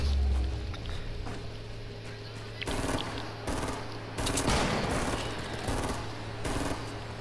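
Fortnite gunfire rattles in bursts of rapid automatic shots, moderately loud and fairly close, separated by short pauses over a steady background hum, with no voices.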